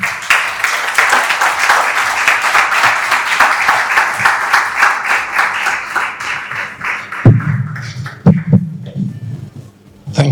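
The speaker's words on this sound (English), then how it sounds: "So I'll take my seat now and help me with a round of applause" Audience applause fills a lecture hall at a memorial lecture fireside chat, dense clapping holding steady for about seven seconds before thinning into scattered handling sounds and rustles.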